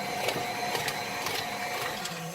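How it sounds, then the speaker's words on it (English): An electric stand mixer runs steadily while beating cheesecake batter, a continuous mechanical whir with faint rhythmic clicks, close and moderately loud with no talking. "We're going to turn the mixer on"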